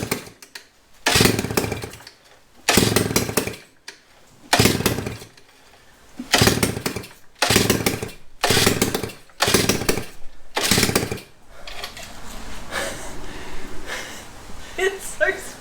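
1955 DKW Hobby two-stroke scooter engine firing in a series of loud bursts, roughly six or seven revs with brief gaps, before settling into a rougher, quieter running stretch near the end.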